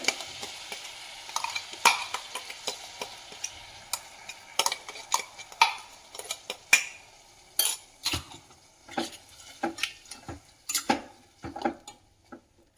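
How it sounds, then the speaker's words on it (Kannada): Finely ground masala being stirred into mint rice bath in a pan, heard as a run of scattered spoon scrapes and clinks against the vessel with a light sizzle underneath, close and moderately loud, no talking. "ನಾವು ನುಣ್ಣಗೆ ರುಬ್ಬಿರ್ತಕ್ಕಂಥ ಮಸಾಲವನ್ನು ಸೇರಿಸ್ತಾ ಇದ್ದೀನಿ ಇದಕ್ಕೆ"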